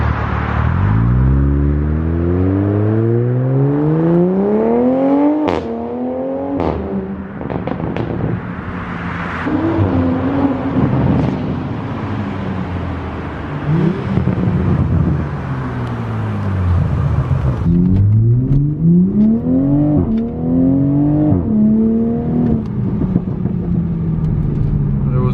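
A Toyota MK5 Supra, untuned and without a downpipe, idles and revs repeatedly, its engine note rising and falling in strong sweeps while sharp exhaust pops and crackles burst out on the overrun, loud and close.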